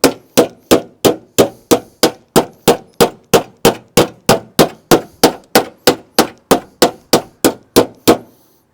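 Steel hammer blows on a 2003 Ford Fiesta Mk5 body panel backed by a dolly, about twenty-four sharp ringing clangs in a steady even rhythm, close and loud, with no talk.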